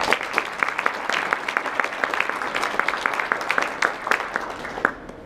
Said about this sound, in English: I think we all should give Paul and Julie a round of applause